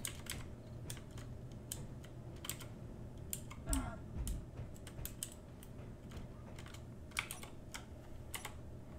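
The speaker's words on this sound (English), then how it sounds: "But it is a mechanical keyboard, and it is oddly soothing to hear, yes." Keys clack on a mechanical keyboard during Space Engineers gameplay, an irregular run of crisp, close clicks in quick bursts over quiet background hum.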